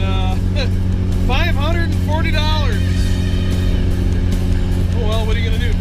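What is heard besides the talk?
old Porsche car being driven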